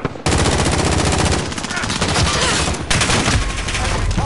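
Rapid automatic gunfire in Modern Warfare, loud and close, with dense bursts of machine-gun shots rattling almost without pause after a brief quiet start, with short breaks between volleys.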